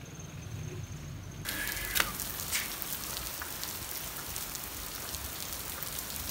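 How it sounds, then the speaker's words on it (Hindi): Heavy rain pours down steadily at a home yard, a dense continuous hiss of drops with a brief sharper splash, with no talking. "देखते ही देखते कितनी तेज बारिश शुरू हो गई है"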